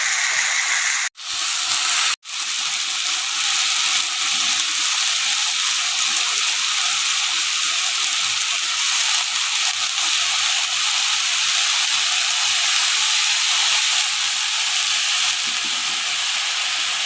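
Onion and chili frying in a hot pan give a loud, continuous sizzling hiss that holds steady throughout, broken by two brief dips near the start, with no talking.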